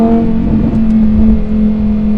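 A Lamborghini Huracan STO's engine drones loud and close under load, a steady mechanical hum with no talking over it.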